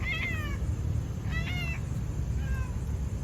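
A cat meows three times, insistent and fairly close, wanting to be lifted up, in an outdoor park with a steady low rumble of city traffic behind it.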